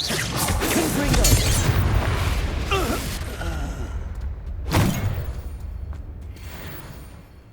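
Spell blasts in the Hogwarts Legacy video game, a couple of loud bursts around the start and another sharp crack near the five-second mark, over busy game effects and rumbling ambience.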